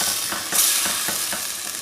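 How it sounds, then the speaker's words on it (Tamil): Chopped tomatoes sizzle in a pan of aloo matar gobi as they are stirred in, a continuous close hiss with soft rhythmic scrapes of the spoon every quarter second or so. "இதுக்கு மேலே தக்காளி கட் பண்ணி வச்சுக்கிறோம் இல்லைங்களா, அதுவும் சேர்த்துக்கலாம். நல்லா ரெண்டும் நல்லா மிக்ஸ் பண்ணி விடலாம்."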